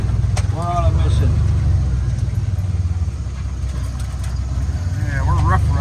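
A car engine rumbles steadily up close as the car swings off the road onto grass and makes a U-turn, a continuous low drone while people talk over it.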